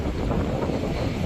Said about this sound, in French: Le vent, il recommence.